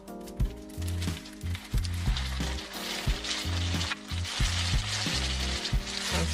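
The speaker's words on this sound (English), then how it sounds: "And stir fry." Carrots and peas stir-fried for chicken fried rice, with a close, steady sizzle and repeated spatula scrapes and knocks against the pan in an uneven rhythm.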